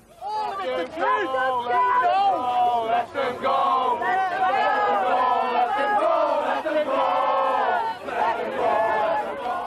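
An angry crowd shouts outside South Sefton Magistrates Court on Merseyside in 1993, many raised voices jeering and yelling at once, loud, close and unbroken throughout.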